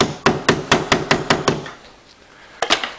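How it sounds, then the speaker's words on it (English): Seven quick, sharp hammer taps in an even rhythm drive a toothpick into a stripped screw hole, close and loud, followed by a short pause and then two or three lighter taps. "tap it with a hammer."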